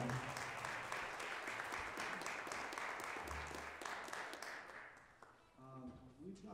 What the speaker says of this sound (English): Let's give a round of applause for those guys.